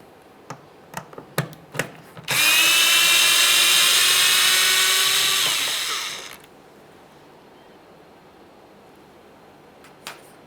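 A power drill with a T20 Torx bit backs out the mounting bolts of the third brake light on a 2015-2020 Ford F-150, a loud steady whirring run of about four seconds after a few sharp clicks.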